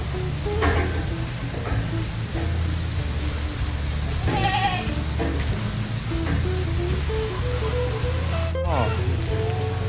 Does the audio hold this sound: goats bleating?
yes